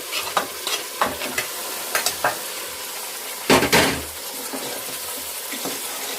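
Ginger-garlic paste masala fried and stirred in a pan for goat head curry, loud close sizzling with a series of spoon scrapes and one longer burst of hissing midway, no voices.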